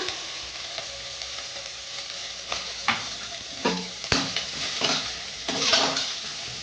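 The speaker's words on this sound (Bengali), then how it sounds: "কাঁচা লঙ্কা কেটে দিলাম দিয়ে এটাকে এক মিনিটের মতো নেড়ে নেবো পেঁয়াজ কুচি দিলাম" Green chilli and chopped onion fry in a pan while a utensil stirs them, giving a steady soft sizzle broken by scrapes and clinks against the pan that grow more frequent toward the end, with no talk.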